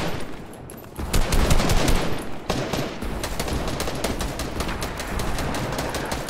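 Loud, sustained gunfire crackles through a battle royale video game fight, with rapid repeated shots forming a dense volley that starts quieter and then swells into near-continuous bursts without talking.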